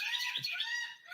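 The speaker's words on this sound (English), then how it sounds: "These are the seagulls behind me, or in front of me rather." Seagulls calling close by, a dense run of shrill, overlapping squawks that fills the whole second with no voices.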